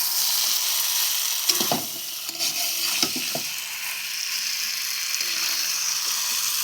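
Chicken curry being sautéed in a pan, a steady close sizzle broken by several scraping stir strokes of a spatula against the pan.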